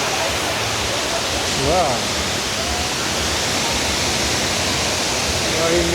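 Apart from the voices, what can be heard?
waterfall on the Kebena river in Addis Ababa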